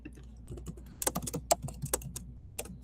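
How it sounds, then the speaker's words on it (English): Fast, uneven clicking of keys on a computer keyboard, fairly close, with bursts of keystrokes and short pauses. "Because I'm typing"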